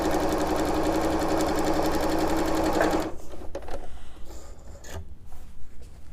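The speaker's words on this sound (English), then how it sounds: "So I'm going to sew these together with a 1/4 inch." A sewing machine runs in a fast, steady whir for about three seconds while stitching quilt triangle pieces with a quarter-inch seam, then stops, leaving faint handling and fabric rustle.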